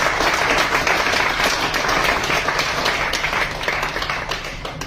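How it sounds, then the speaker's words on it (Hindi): A crowd applauds moderators at an award function in Udaipur, the clapping dense and sustained for several seconds, steady and loud before easing slightly near the end, with no speech over it. "तो आज जोरदार तालियां इन सब मॉडरेटर्स के लिए।"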